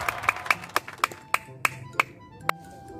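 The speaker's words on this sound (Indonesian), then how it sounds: "Tepuk tangan dulu." Hands clap about ten times in a loose, irregular rhythm during a quiz-style guessing game. The sharp, fairly quiet claps sound close and come from only a few people, with a faint room murmur between them.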